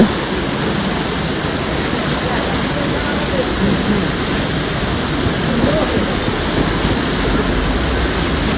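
River water rushes steadily at a riverside in Jalpaiguri where people fish with nets, a constant broadband roar with no break throughout.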